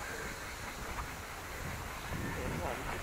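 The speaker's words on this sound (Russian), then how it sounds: "О, сегодня штормит." Stormy wind by the sea at a beach resort rushes steadily in a broad, constant hiss with gusty buffeting on the microphone and no clear voices.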